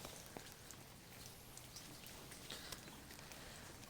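Soft, steady patter of light rain falling, a continuous hiss with scattered faint drops, no voices.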